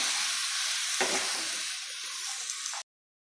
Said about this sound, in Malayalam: അതിനുശേഷം വേണം നമുക്കിത് നന്നായി കൂട്ടി യോജിപ്പിച്ച് കൊടുക്കാം